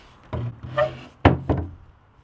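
A slightly warped wooden kitchen cabinet door swinging shut, giving a few close, dull wooden knocks and thunks, one sharper impact among softer taps, with no talking.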